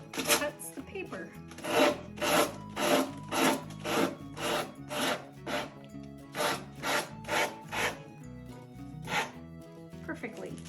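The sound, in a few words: sanding block sanding paper edges on decoupage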